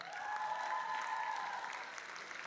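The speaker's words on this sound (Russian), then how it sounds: "Встретим громкими аплодисментами." A crowd applauds a team taking the stage at a junior KVN comedy league quarterfinal in Ufa, with loud, continuous clapping and a held musical tone underneath that fades slightly toward the end.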